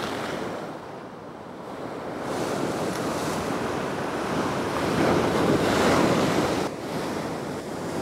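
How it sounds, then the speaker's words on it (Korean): Ocean surf at Watsons Bay, watched during a fishing trip, rolls and crashes in a broad, continuous wash that swells louder midway, close and full, with wind buffeting the microphone and no talk. "파도가 점점 더 세지네요."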